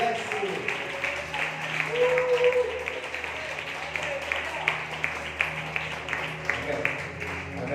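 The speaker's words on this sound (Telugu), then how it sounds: "బిగ్గరగా చప్పట్లు దేవుని స్తుతిద్దాం" A church congregation at a Sunday service applauds together in praise, a dense, sustained clapping with steady energy through the whole stretch, heard in a reverberant hall with no one speaking over it.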